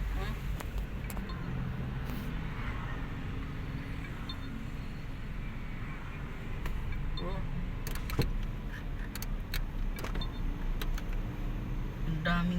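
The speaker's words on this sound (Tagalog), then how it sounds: "Ang daming sasakyan." Steady road noise from many cars on a busy mountain road, a continuous low rumble with occasional clicks and knocks, fairly close, with faint voices.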